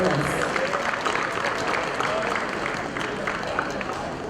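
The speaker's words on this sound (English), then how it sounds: "Let's give another round of applause for Mr. Abraham and his accomplishments" Steady applause from a sizable crowd fills the room, dense clapping holding at an even level throughout without breaks.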